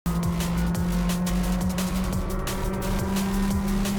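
Race cars running side by side on the Cadwell Park circuit during a trackday trophy race, with loud, steady engine drone heard close from the cockpit, and engine tones rising and falling through gear changes.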